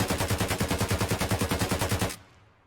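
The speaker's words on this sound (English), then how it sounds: "So we'll make sure this is in full auto. I'm not going to hold alt, hold breath, or do anything or compensate." A rifle set to full auto empties its magazine in Escape From Tarkov: a steady, rapid stream of about twenty loud shots in even rhythm, then the firing stops abruptly and a short echo fades.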